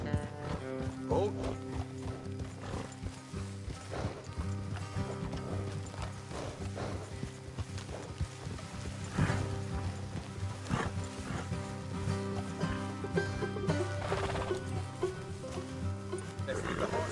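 Rhythmic horse hooves clip-clop over a steady musical background in Red Dead Redemption 2, with occasional whinnies; the game soundtrack plays throughout.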